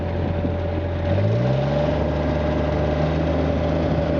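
A John Deere 1445 mower engine with a blower, idling low and then rising to full throttle after about a second, settling into a steady, close, loud droning hum.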